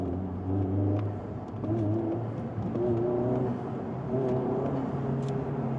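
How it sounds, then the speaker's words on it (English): A turbocharged Honda Civic Type R engine revs repeatedly, rising and falling in several quick bursts with a whirring turbo whine, close and loud. "The throttle response on this Type R is also crazy good for a turbocharged car."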